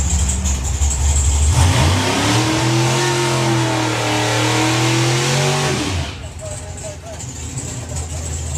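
A drag racing doorslammer car roars off the line and accelerates hard down the strip, its loud rising engine note climbing steadily for several seconds before cutting off, with commentary running over the noise.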